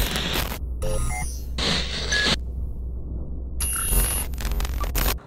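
A notification bell sound effect plays as several bright, bell-like rings and bursts of crisp noise, loud and close, separated by short gaps.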